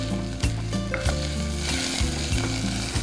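Chana dal and toor dal fry in a pan for jowar khichdi, a loud, close sizzle broken by repeated rhythmic scrapes and knocks of a spoon stirring the lentils.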